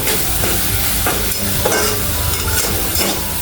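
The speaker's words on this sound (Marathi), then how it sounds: "कांदा टोमॅटो आणि आपला हिरवा जो मसाला आहे तो पूर्ण आपण तळून घेतोय" Onion, tomato and green masala fry loudly in a pan, a dense, continuous sizzle up close, with regular clinks and scrapes from stirring.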